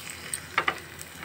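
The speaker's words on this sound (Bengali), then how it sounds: "এবার আমি পাবদা মাছগুলোকে ভেজে নিব" Salted, turmeric-coated pabda fish frying in hot oil: a soft, steady sizzle with a couple of brief crackling pops, close by and fairly quiet.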